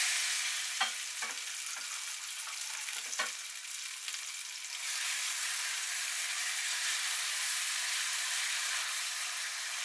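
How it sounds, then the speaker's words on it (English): Curry paste fries in a pan over popping seeds for a king prawn curry, making a steady hiss with a few sharp crackles early on. The sizzle then settles into an even, bright frying noise. "we want to get in our curry paste and get that frying off"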